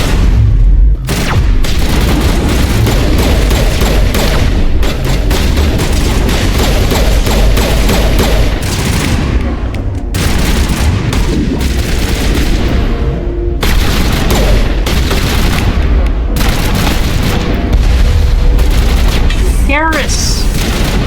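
A Mass Effect firefight: dense, continuous gunfire and booming shots fill the scene at high volume, with voices shouting over the shooting.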